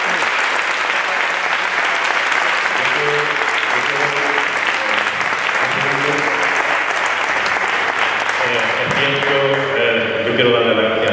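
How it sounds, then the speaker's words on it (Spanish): An audience at an international Paco de Lucía guitar gathering breaks into loud sustained applause, dense clapping from a full room that continues steadily, with a voice speaking over it. "yo creo que los dos se merecen hoy un fuerte aplauso"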